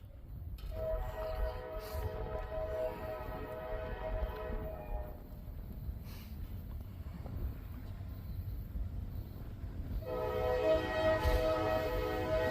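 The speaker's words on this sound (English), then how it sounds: "Looks like it might be another coke train." A CSX coal train rumbles past on a windy day, its horn sounding two long blasts, one near the start and another near the end, over a low, steady rolling roar at a moderate distance.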